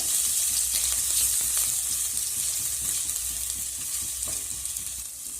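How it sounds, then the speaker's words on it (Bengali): Ginger, garlic and green chilli fry in hot oil with a steady, loud sizzle, broken by soft scraping taps as the mixture is stirred, close up with no voices. "এবার আমি এর মধ্যে দিয়ে দিচ্ছি আদা, রসুন আর কাঁচা লঙ্কা। এবার সব কিছু আমি নেড়ে চেড়ে ভেজে নেব।"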